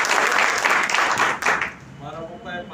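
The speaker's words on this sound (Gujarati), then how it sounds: "જોરદાર તાળી." Applause from an audience at a business training seminar, dense and broadband clapping that stays loud for about a second and a half, then thins out and fades under a voice that begins speaking.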